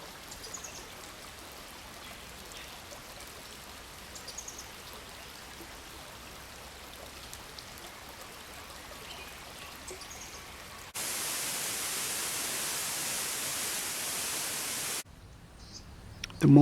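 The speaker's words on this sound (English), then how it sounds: "We are approaching the waterfall." Waterfall in Karura Forest, a steady broadband rush of falling water that grows noticeably louder and closer partway through, as if being approached, before a cut near the end.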